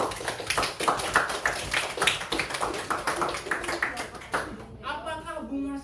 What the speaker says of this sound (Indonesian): Tepuk tangan buat Dewi dulu